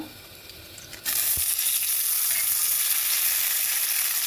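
Dried red chillies and bay leaves dropped into hot oil in a wok burst into a sudden loud sizzle after a quiet start, then crackle steadily and close by with no talking.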